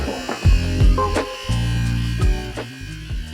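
Oster Fast Feed hair clippers run with a steady electric buzz, close and fairly loud, broken by short bumps and brief dips in level as they are handled.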